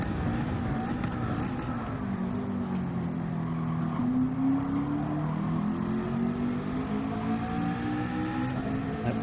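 A Porsche race car engine in Gran Turismo 7, heard from inside the game, revs steadily and climbs in pitch through the gears, loud and continuous with no talk.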